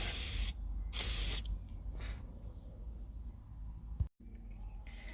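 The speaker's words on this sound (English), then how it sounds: "take some electro spray and spray it on the contact pins." Electrical contact cleaner sprayed onto the connector pins of a VW car radio: several short loud hissing bursts in close succession, then a faint spritz and a clunk near the end.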